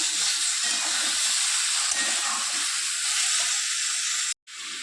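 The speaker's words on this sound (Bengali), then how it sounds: "এবারে আমি এটা ভালো করে কষিয়ে নেব।" Vegetables seasoned with salt, a little sugar and vegetable masala stir-fry in a pan for a peas curry, giving a loud, close, continuous sizzle with a brief cut near the end and no talking.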